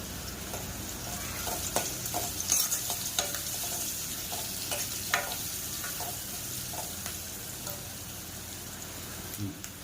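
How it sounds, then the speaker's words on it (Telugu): Onions frying with turmeric in a pan for a tomato curry, a steady crackling sizzle under intermittent scrapes and knocks of a spoon stirring, close and moderately loud, with no talking. "ఆనియన్స్ బ్రౌన్ కలర్ వచ్చేంత వరకు ఈ పసుపు అనేది పచ్చి వాసన పోయేంత వరకు మనం బాగా ఇలా కొంచెం ఫ్రై చేసుకోవాలి"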